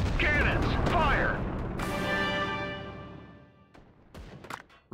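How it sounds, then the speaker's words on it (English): Cannons firing in the WWA RTS video game, a loud booming blast with a long ringing, metallic tail that decays over a couple of seconds, preceded by a voice shouting and followed by a few fainter thumps. "Cannons, fire!"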